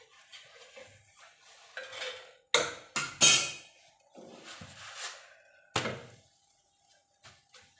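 Puran poli turned over on a clay khapar griddle, a few sharp knocks and thuds of handling and flipping, close and distinct, with soft sizzling between the hits and no talk.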